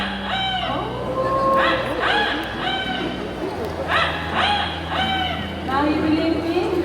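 At a bird show at Bird Paradise in Singapore, a person imitates a rooster crowing, producing several loud, close cock-a-doodle-doo calls in quick succession with short pauses between them.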